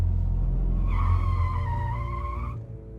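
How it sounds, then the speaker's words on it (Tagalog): A car brakes hard with a sustained tire skid squeal over a low engine rumble, the screech rising sharply and holding for about a second and a half before cutting off, loud and close, with no talk. "Malakas pa ang pagkakapreno ko noon."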